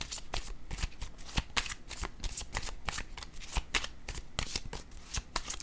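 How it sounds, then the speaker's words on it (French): Tarot cards shuffled and laid down, a rapid run of crisp riffling flicks and slaps at an uneven rhythm, close and loud with no voices. "je vais déposer une carte rose par curiosité"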